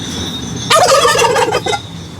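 Loud, close calls from chickens and ducks in a tiny pen burst out in a noisy cluster for about a second, a mix of gobbling and clucking over low background rumble.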